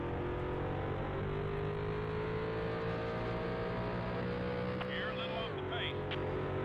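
Race cars roaring around the track in the NASCAR 2001 video game at the Save Mart 350 road course, a steady layered engine drone with a pitch drop near the end as the car shifts, continuous and close.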